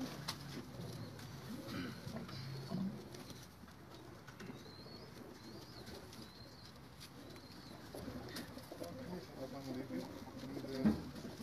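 Pigeons at a loft in Perasteri, Greece coo softly and intermittently, fairly distant, under low background murmur and occasional voices.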